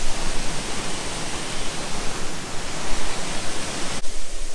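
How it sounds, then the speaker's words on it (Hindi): The Tilari waterfall rushes in a loud, steady, broadband roar of falling water. It fills the whole few seconds close by, with no voices over it. "शायद से आपको पीछे आवाज़ आ रहा रहेगा पानी के बौछार का।"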